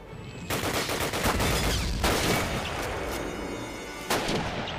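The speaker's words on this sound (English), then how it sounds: "And I will shoot the machine gun" Machine gun fire in Call of Duty: loud, sustained rapid bursts with heavy booming impacts, near and continuous across the moment with brief pulses of louder shots.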